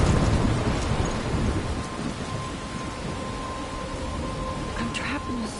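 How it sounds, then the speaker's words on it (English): Thunderstorm with heavy rain in the video game Life Is Strange, a dense continuous roar of rainfall with low rumbling thunder throughout, steady and loud. "I'm trapped in a storm?"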